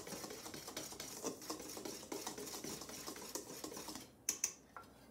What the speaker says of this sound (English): So I'm just gonna whisk those together.